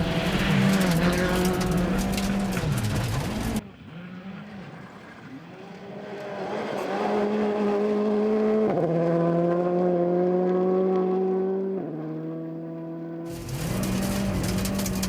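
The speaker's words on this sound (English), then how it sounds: "As second car on the road, you can hear that gravel underneath Ben." A rally car races over a gravel road in the South Canterbury Rally of the New Zealand championship, its engine screaming loudly through rising and falling gear changes as it passes, with loose gravel hissing underneath.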